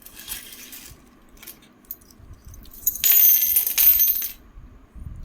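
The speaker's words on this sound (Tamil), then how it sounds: "இது ஒரு சைனீஸ் காயின்," A Chinese coin with a square hole is handled up close: light metallic clinks and scrapes, building to a louder jingling rattle near the end.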